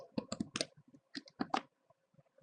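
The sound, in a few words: typing a file name on a computer keyboard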